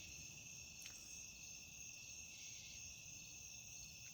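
Crickets chirp at night on a cool evening, a faint, steady high trill that runs unbroken throughout, with a soft low rumble beneath.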